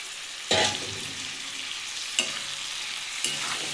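Fried prawns stirred into a potato and flat bean curry in a pan, a constant sizzle with three distinct spatula scrapes spaced a second or so apart, close and fairly loud.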